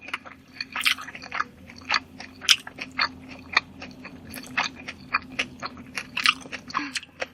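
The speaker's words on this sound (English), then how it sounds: "But I also am going to eat it with some papaya salad." Someone eating beef sticks with a pickle of cucumber and carrot and papaya salad, close crunchy bites and chewing in an irregular rhythm, with a faint steady hum underneath and no talk.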